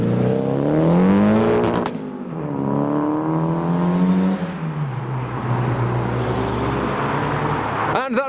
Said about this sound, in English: now we've got the PS13 and the little Mark 1 MX-5 leaving the show